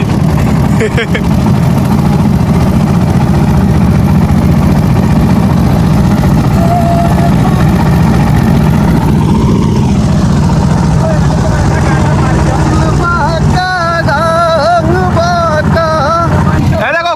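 A motorboat engine runs on open water after being restarted, a loud, steady low drone that fills the whole stretch, with voices talking over it toward the end.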